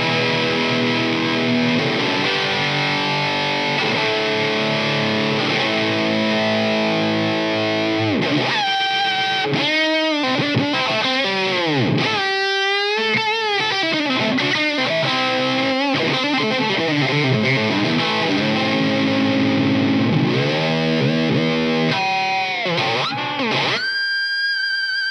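Heavily distorted Jackson SL3X DX Soloist electric guitar crashes through big sustained chords, with swooping pitch dives and squealing bends, loud and continuous.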